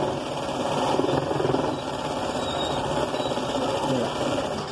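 A sewing machine stitches the side seams of a prince-cut, boat-neck blouse, with a steady close motor whir and rapid needle rattle that runs continuously without pause.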